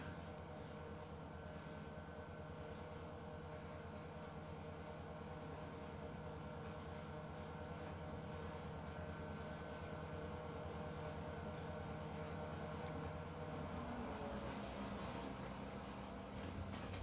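A train rolls along in a railroad operations video game, with a continuous low rumble and rattle of the cars that stays steady and even throughout, with no talking.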